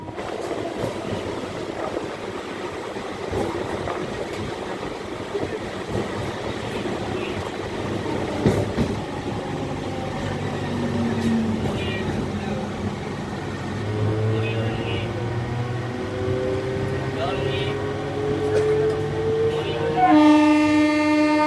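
A local train runs from Bankura toward Chhandar halt with a steady, loud rumble of rail wheels and carriages throughout, and a horn sounds near the end.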